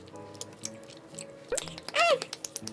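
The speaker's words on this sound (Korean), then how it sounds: "이건 요거트 찍어서 마저 먹을게요" Food dipped in yogurt is chewed up close in a convenience-store snack mukbang, giving soft wet mouth clicks and squishy bites in a quiet room, with a louder burst of crunching near the end.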